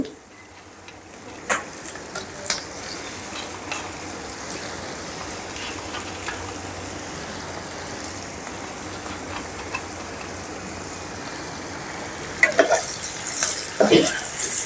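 Ridge gourd pieces fry in a pan with a dense, steady sizzle like light rain, nearby, with occasional utensil taps and louder stirring near the end.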